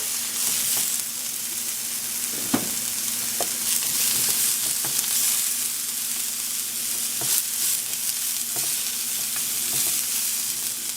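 Mushrooms fry in a hot stir fry seasoned with ginger powder, giving a steady, close, dense sizzle that holds for the whole stretch, broken by occasional sharp clicks and scrapes of stirring, with a faint low hum underneath and no talking.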